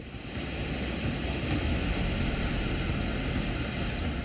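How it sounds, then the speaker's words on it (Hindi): Rushing floodwater after a cloudburst at Sahastradhara, Dehradun, a steady loud broadband roar of churning water that holds constant throughout with no voices. "पानी का वेग इतना जबरदस्त था मानो सब कुछ अपने साथ बहा ले जाएगा।"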